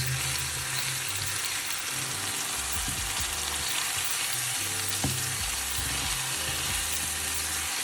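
Diced onions frying in a little oil, a steady close sizzle with occasional stirring and scraping knocks throughout.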